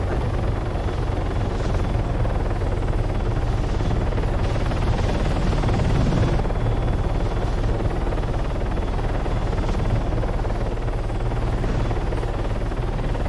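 Helicopter flying in the video game Arma 3, its rotor and engine drone steady and loud for the whole stretch, with no talk over it.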